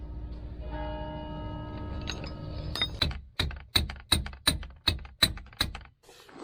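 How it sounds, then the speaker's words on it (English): A church bell rings in a steady series of about nine loud strikes, each ringing out briefly, following a low mechanical hum. "More bells of doom."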